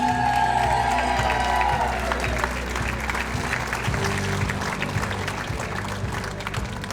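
An audience at a hall of fame dinner applauds and cheers steadily throughout, a dense wash of clapping with a few whoops, and faint voices underneath.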